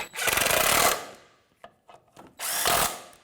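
Socket wrench tightening a nut and bolt on the rack and pinion of a 1992-1996 Toyota Camry: two sustained bursts of rapid grinding ratchet noise, with a few scattered clicks and knocks between them, close up.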